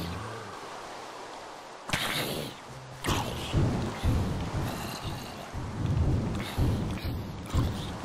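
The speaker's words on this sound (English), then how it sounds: "It is raining, so that does provide an additional challenge." Steady rain hiss with rumbling thunder in the video game Minecraft, set underground at night, with louder bursts and crackling rolls near the middle and end.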